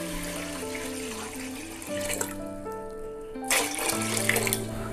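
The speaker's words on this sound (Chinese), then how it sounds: "首先，咱们准备一个盆儿，然后加入凉白开" Cooled boiled water poured into a basin, a steady close splashing stream that swells louder near the end, heard alongside sustained tonal background music.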